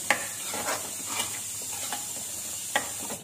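Green peas are stirred in a hot pan over a lowered gas flame, giving a soft steady sizzle broken by a few sharp scrapes and clinks of a spoon against the metal.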